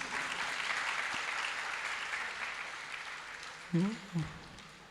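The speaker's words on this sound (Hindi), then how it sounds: "आपने ताली बजाई" An audience applauding at a Jain sermon, a sustained mid-distance wash of clapping that fades gradually, with a couple of brief voices near the end.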